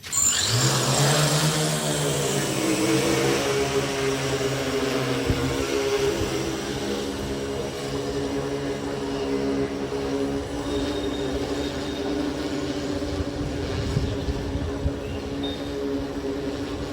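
A medical delivery drone flies in a hospital pilot project, its motors whining up in pitch at the start, then settling into a steady, loud buzzing hum that continues without pause.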